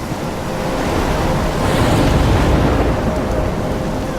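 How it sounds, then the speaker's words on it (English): Stormy sea in the Life Is Strange video game: steady roaring surf crashing with gusting wind, a dense unbroken wash that swells slightly louder midway, with no voices. "I'm trapped in a storm?"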